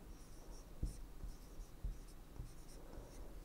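Pen or chalk scratching steadily while a math derivation is written out, short strokes and taps in an uneven rhythm, close and moderately loud against a faint hiss, with no talking.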